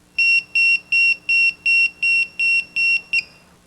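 A 1991 Alpine car security alarm gives a rapid sequence of about nine loud, evenly spaced electronic chirps, sharp high tones cutting off abruptly with a shorter final blip.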